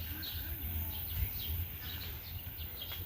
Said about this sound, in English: You can hear the sound of the birds tweeting in the trees.